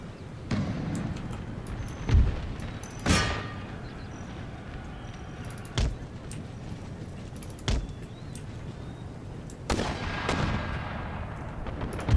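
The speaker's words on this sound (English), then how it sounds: "Those mortars, they're the worst." Mortar fire in the Empire: Total War strategy game, with several heavy booms spaced irregularly over a low battlefield rumble, some near and loud, others more distant.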